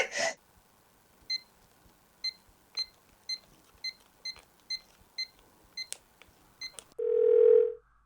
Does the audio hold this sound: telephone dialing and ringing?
yes